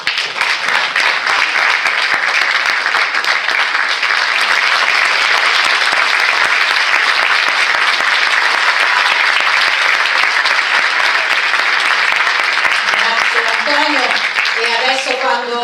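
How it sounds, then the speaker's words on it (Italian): An audience applauds at the Teatro Italia in Acerra with dense, sustained clapping that fills the whole stretch at full loudness, and a voice comes in faintly near the end. "ancora un applauso"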